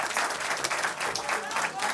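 A studio audience at a quiz night show bursts into steady, dense applause, many hands clapping together at moderate distance for the full short stretch, with no pause.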